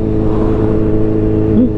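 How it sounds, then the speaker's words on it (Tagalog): Loud aftermarket exhaust on a car, a continuous close engine drone with a slight rise in revs near the end, no voices. "Dahil tayo may maingay na tambutso."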